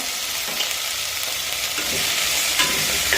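Potato curry with turmeric being stirred in a hot pan, a continuous sizzle and fry with scraping spoon strokes and a few clinks, close and fairly loud, with no one speaking.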